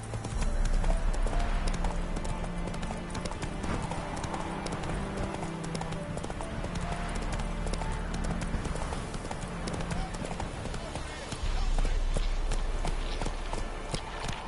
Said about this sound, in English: Whoa there, Roach. Show me what you got